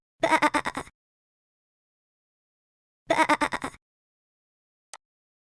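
Two short, quavering sheep bleats sound alone with silence between them, followed by a tiny faint blip at the end.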